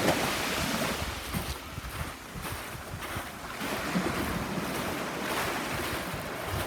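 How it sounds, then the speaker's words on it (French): Ocean waves wash steadily onto a sunny beach among small caves, with gusting wind buffeting the microphone in a continuous, fairly loud roar and no voices. "Belle plage."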